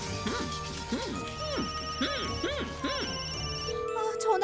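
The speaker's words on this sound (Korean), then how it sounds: "전화를 안 받으셔." A telephone in a Korean children's cartoon rings unanswered. Its warbling electronic trill repeats in regular pulses at moderate volume under a steady background of score and effects, then stops near the end.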